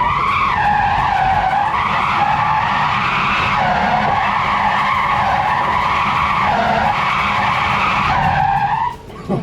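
A K-series car drifts with a loud, sustained tire squeal whose pitch wavers up and down over a steady engine roar, then cuts off abruptly at the end.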